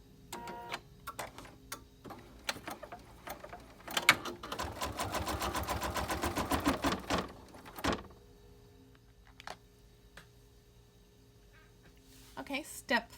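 An embroidery machine tacks fabric for an in-the-hoop quilted zipper bag with quiet ticks, then a dense run of rapid, rhythmic needle stitching lasting several seconds before stopping. Later it makes a few more short bursts, heard close up.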